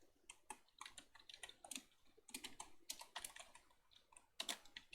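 Quiet, close-up typing of Python code on a computer keyboard comes in irregular bursts of rapid key clicks separated by short pauses, with no speech.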